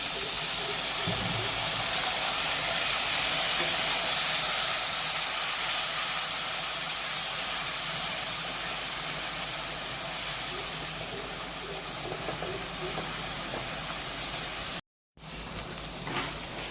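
A splash of water hits ground spices (Kashmiri red chili powder and salt) frying in oil for a Bengali koi fish curry, giving a loud, steady steam hiss and sizzle that runs unbroken before a brief cut near the end.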